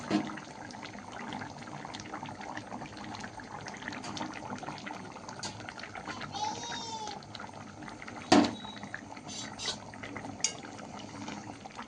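Egg curry simmers in a pot with a soft, continuous bubbling that stays quiet and low in the background, broken by a brief louder clatter near the end.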